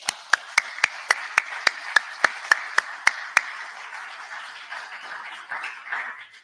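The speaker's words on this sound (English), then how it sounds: "So I want to give you a round of applause." Sharp, evenly spaced claps ring out about a dozen times in a steady beat, then dissolve into softer, scattered clapping from a gathered audience at a public event honoring a governor.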